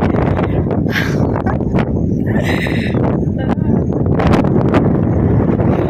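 Strong wind on a hilltop at the Chauranginath temple near Karad buffeting the microphone in heavy, continuous low rumbling gusts, with brief voices breaking through now and then.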